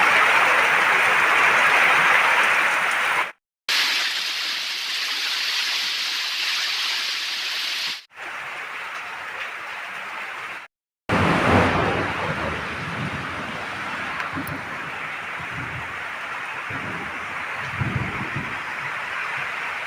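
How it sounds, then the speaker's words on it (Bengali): Night thunderstorm with heavy rain and thunder, recorded from a grilled veranda: a steady loud roar of downpour, broken by brief gaps, with low rumbling bursts of thunder in the later part. "খুব জোরে জোরে বিজলি মারছিল, এত ঝড় বৃষ্টি ঠাঠা।"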